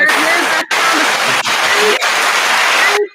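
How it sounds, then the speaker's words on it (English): Studio guests cheering and applauding at a roundtable talk show, a short burst of broadband clapping and crowd noise lasting about three seconds with brief dips, then cutting off abruptly. "That's our little quick cheer, right?"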